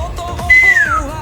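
A person whistles a single clear, sliding note that holds and then glides downward, loud and close, following a few soft background knocks in a home kitchen.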